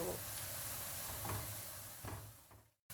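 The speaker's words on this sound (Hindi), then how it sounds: "इसलिए मैं इसमें चम्मच हिला रही हूँ ताकि कोई जले ना" A spoon stirs onions frying in oil for chicken biryani, giving a faint, steady sizzle with soft scraping strokes that cuts out briefly near the end.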